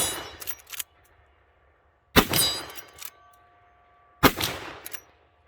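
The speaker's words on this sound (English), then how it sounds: "we're going to shoot this thing with full house loads unsuppressed" Lever-action rifle firing full-power loads without a suppressor, three sharp loud shots spaced about two seconds apart, each with a brief ringing echo trailing off, close by and with no talking.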